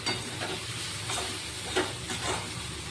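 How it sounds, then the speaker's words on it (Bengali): Cabbage frying in a pan is stirred back and forth, with soft scraping strokes over a continuous close sizzle and no voices. "একবার এদিক করছি আর একবার এদিকে নাড়ছি"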